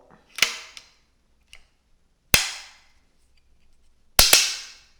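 Sharp metallic clacks from the action of a Darne 12-gauge shotgun being worked by its key, three separate loud snaps, some doubled, spaced about two seconds apart in a quiet room.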